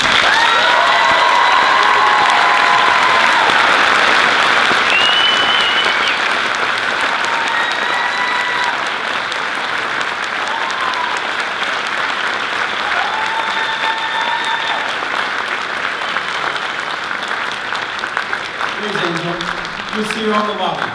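A high school choir event audience applauds award recipients with sustained, full clapping throughout, scattered cheers and voices rising within it, tapering slightly near the end.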